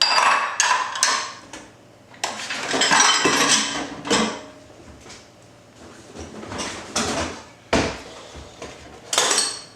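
Tuna casserole ingredients are stirred in a bowl with a utensil, giving irregular clinks, scrapes and clatters that come in bursts with short pauses between them.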